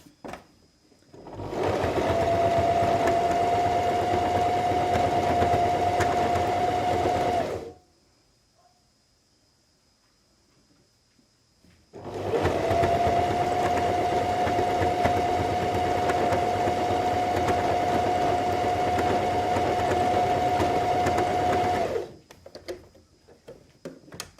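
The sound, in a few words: sewing machine stitching a cat snug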